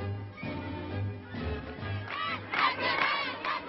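A large crowd at a patriotic demonstration in Cairo in 1967 chants and shouts in rhythmic unison, the roar swelling louder toward the end.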